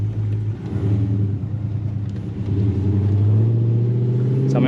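A 2006–2010 Dodge Charger accelerates hard through paddle-shifted gears, with a deep, steady engine drone broken by brief dips at each upshift before rising again, loud and heard from inside the car.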